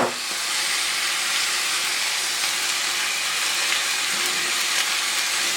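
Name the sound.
beans added to a pan with onions and stock, simmering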